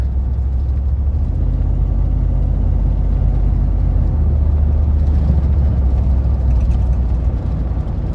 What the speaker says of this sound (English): sounds like it's missing on a cylinder whenever I give it gas